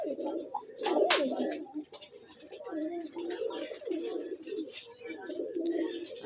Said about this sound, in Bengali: এগুলো হচ্ছে কালো জাগ কবুতর